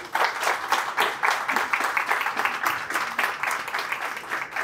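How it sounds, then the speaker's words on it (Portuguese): Audience applause at a summer event honoring an Olympic athletics medalist, a steady, dense wash of clapping from a crowd that runs for several seconds at an even, fairly loud level. "eu gostaria de pedir uma salva de palmas"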